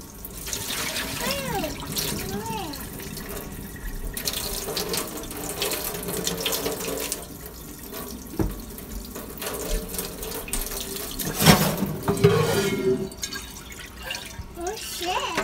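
Cold water runs steadily from a kitchen tap into a sink while dishes are washed, with splashing and clinking throughout and people talking over it.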